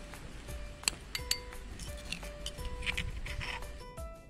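Chutney being transferred into a serving dish, with a few bright utensil clinks and taps against the dish, two sharper strikes early on, over a soft background hum.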